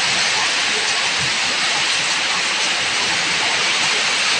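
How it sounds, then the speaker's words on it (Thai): Heavy rain pours down late at night, a dense, unbroken hiss of falling water that stays loud and even throughout with no pauses. "ตอนเสียงฝนนะคะนอนตอนเสียงฝนกันจ้า"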